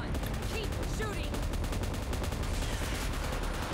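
Rapid automatic gunfire in the mobile battle game PUBG Mobile, loud continuous bursts of shots filling the whole moment, with faint game effects behind.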